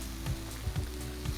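Onion and garlic sautéing in a pan, a steady close sizzle broken by a few soft scraping stirs.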